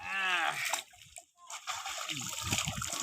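Water splashes and sloshes as someone bathes in the Payra river, with short bursts of splashing near the microphone and a voice heard briefly among them.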